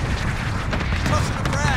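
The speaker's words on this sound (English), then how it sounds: "Cluster strike is active" Cluster airstrike in a video game: a continuous barrage of deep, rumbling explosions and crackling detonations, loud and dense, with a voice speaking over the blasts.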